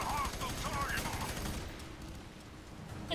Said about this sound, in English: It's a good thing you shot that guy.